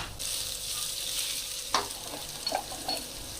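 Fried rice with Chinese lap cheong sausage being stir-fried in a pan, a steady close sizzle with a few sharp scrapes of the spatula, no talking.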